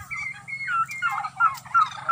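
Turkeys gobble close by in quick, rolling bursts, several calls overlapping over a faint low rumble.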